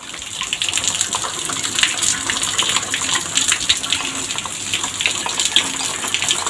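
Heavy rain pours steadily, a dense, continuous rushing hiss of falling water up close, with no voices.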